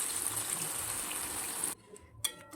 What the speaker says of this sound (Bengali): এই মুহূর্তে আমি জল দিয়ে দিই।